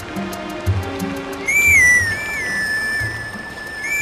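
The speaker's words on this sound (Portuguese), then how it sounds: "Pegar aqui o apito das flores" In the Zelda: Twilight Princess game, a grass whistle plays a short clear melody of sliding, gliding tones over soft background game music.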